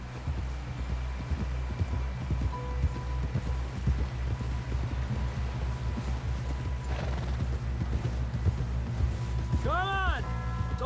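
Horse hooves clop in steady, quick repeated beats in the video game Red Dead Redemption 2, with creaking tack and a faint whinny near the end, fairly soft throughout.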